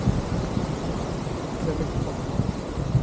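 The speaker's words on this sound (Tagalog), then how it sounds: "Hangin." Steady outdoor wind blows hard against the microphone, a broadband rushing roar with gusty swells that never lets up across the clip.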